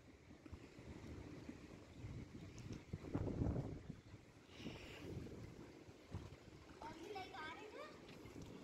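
Cold wind blows steadily at a seaside with clear blue water in the evening, a constant low rushing roar buffeting the microphone. A gust swells midway, and a voice talks briefly near the end.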